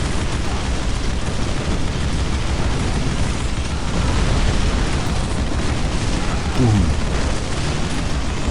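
Continuous dense barrage of explosions and booms from a Dawn of War Unification battle with Death Korps of Krieg forces, a loud unbroken rumble of blasts and artillery with a few sharper bursts, no voices.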